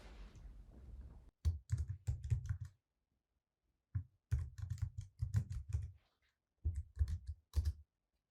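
Password being typed on a computer keyboard in quick bursts of close, crisp key clicks, separated by short pauses of silence, with no voices.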